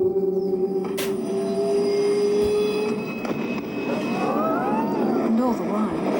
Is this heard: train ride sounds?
yes